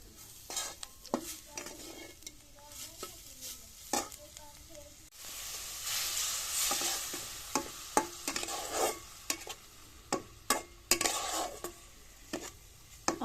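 Curry frying in a pan with chili and cumin powder, stirred with a spoon that clinks and scrapes in quick repeated strokes over a steady close sizzle that swells louder midway.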